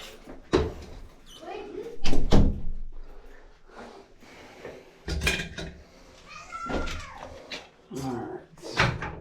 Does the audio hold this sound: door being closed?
yes